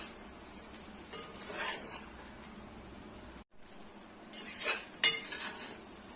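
A metal spatula scrapes and clatters in a pan as fried soya chunks are stirred into fried rice, with a few louder bursts of stirring over a quiet background and no talking.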